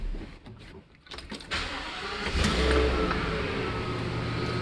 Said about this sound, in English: Let me get the engine running again.